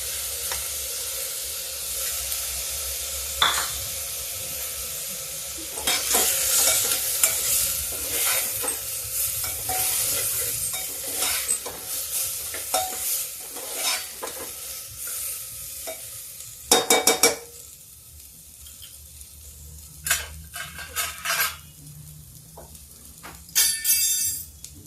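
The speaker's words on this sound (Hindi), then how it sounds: "मैं थोड़ी सी दाल डाल देती हूँ।" Soaked chana dal hits a hot pan and sizzles steadily while a spoon stirs it, with occasional clinks of metal against the pan, close and continuous with no talking.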